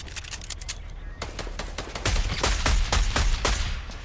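Gunfire in the video game Fortnite during a squads match: rapid bursts of sharp shots, sparse at first, then a louder, denser volley in the second half.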